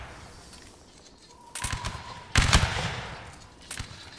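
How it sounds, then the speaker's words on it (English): Musket volleys in a Napoleonic Wars line-battle video game: two loud bursts of massed firing about a second apart, the second harder and fuller, each trailing into a rumbling echo, then a fainter shot near the end. "And start shooting again."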